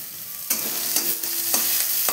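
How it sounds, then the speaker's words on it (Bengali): Onion, garlic and green chili fry over medium heat in a pan with a steady close sizzle. A spatula stirs and scrapes about every half second, and there is no talk. "মিডিয়াম হিটে এখন পেঁয়াজ, রসুন, কাঁচা লঙ্কা প্রায় ভাজা হয়ে গিয়েছে"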